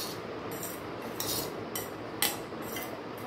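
A spoon scrapes and clinks against a bowl while masala is stirred into sweet corn, several bright metallic strokes spaced irregularly over a soft steady background hiss.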